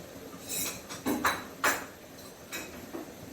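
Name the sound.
mixing chicken soup with a utensil in a pot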